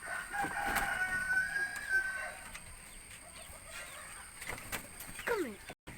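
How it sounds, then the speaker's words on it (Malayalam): Giriraja breed roosters crow on a poultry farm, one long crow early on and further crowing calls later, fairly near over a busy background of other fowl and farm noise. "ഇത് ഞങ്ങളുടെ ഗിരിരാജൻ ഇനത്തിൽപ്പെട്ട പൂവൻ കോഴികളാണ്"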